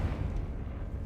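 The Confringo blast spell in Hogwarts Legacy goes off as a deep, muffled explosive rumble, a short booming burst heavy in the low end that fades quickly.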